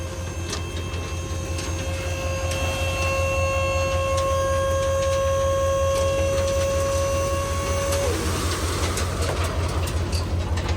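A Diamond C dump trailer's three-stage hydraulic cylinder raises the bed with a loud, steady whine and a strong low pump drone that holds for about eight seconds, then changes pitch and cuts to rougher mechanical noise.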